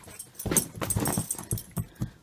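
A puppy makes soft, quiet whimpers and snuffling noises in short irregular bursts, close by and with no talk.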